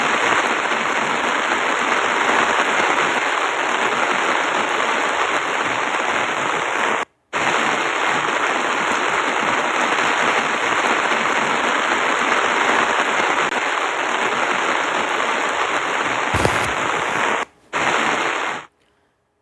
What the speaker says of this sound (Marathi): तर पुणे जिल्ह्यात पावसाची संततधार सुरू आहे